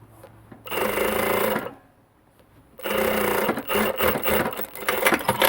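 Sewing machine stitching a men's jacket seam during alteration, two loud bursts of continuous rapid motor-driven stitching separated by a short quiet pause, close up.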